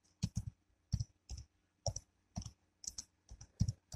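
Fingers tap out a short word on a computer keyboard, giving a quiet, close run of about a dozen crisp key clicks in irregular rhythm.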